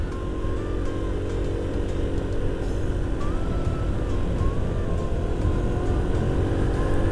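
A truck loaded with stone material rumbles past on a remote road, its engine a steady, loud drone that stays close for the whole stretch.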